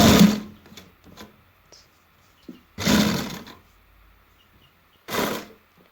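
A sewing machine stitches a neck strip onto a baby boy's kurta kameez in three short bursts of fast, whirring stitching, close and loud, with quiet pauses and handling noises between.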